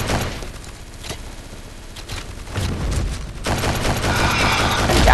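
A Lewis machine gun in the mobile shooter CrossFire Mobile firing in sustained rapid bursts, loud and dense, with explosions and other gunfire mixed in.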